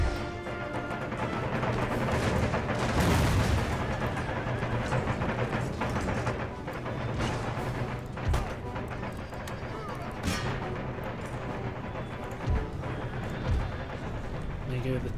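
Artillery in an Empire: Total War battle pounds an enemy general, with dull booms and crashes buried in a constant roar of battlefield noise while someone talks over it.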